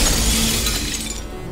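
Glass shatters in the Portal 2 video game, a loud, bright, sustained crash and tinkle of breaking panes that fades slightly over about a second and a half, alone with no talk.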